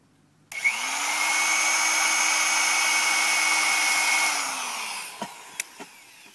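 A power drill whirs steadily for about four seconds while drilling holes in an oak log, then winds down, followed by a few sharp knocks.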